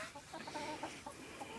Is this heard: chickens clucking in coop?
yes